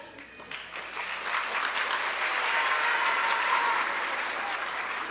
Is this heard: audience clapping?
yes